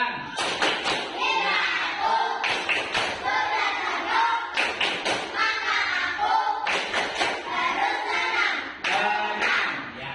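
A primary school classroom of children performs the 'tepuk tenang' chant-and-clap routine, with rhythmic bursts of hand claps and taps alternating with children's chanting voices. The sequence repeats in several loud, close groups.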